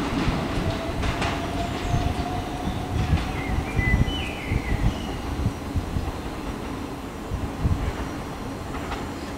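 Two Southeastern class 375 electric trains, 375624 and 375824, pass through Sevenoaks station with rumbling wheels, rhythmic clickety-clack over rail joints and a faint electrical whine, loud and close.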